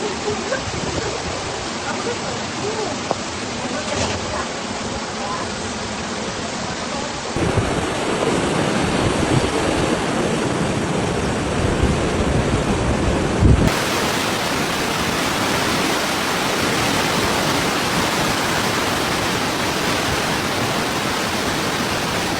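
Floodwater runoff pours like temporary waterfalls over local roads in Tabasaran District, Dagestan, during heavy rain flooding, a loud, constant roar of rushing water with no pauses.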